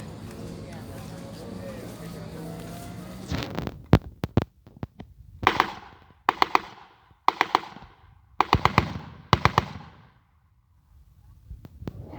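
A World War II reenactment machine gun is set with its gas aperture at the highest setting. It fires several rapid bursts of sharp, loud shots with short pauses between them, and talk is heard just before the shooting starts.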